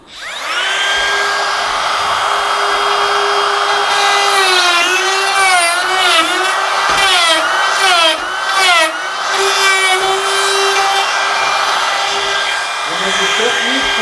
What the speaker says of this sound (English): this is the same router with a different base. With the plunge base.